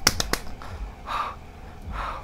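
A creature in the video game Amnesia: Rain claps, giving three quick sharp slaps close together at the start, followed by soft breathy noises.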